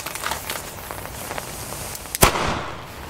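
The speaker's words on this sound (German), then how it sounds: "Sehr dumpfer Knall." A lone firecracker from a New Year's Eve 2015 banger test goes off with a dull, muffled thump partway through, amid faint outdoor crackling and hiss.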